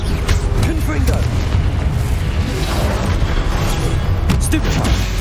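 Blasting spell explosions in the Hogwarts Legacy video game on PS5, a dense run of booming blasts and crashing bursts over a constant loud battle background, with faint voices in the mix.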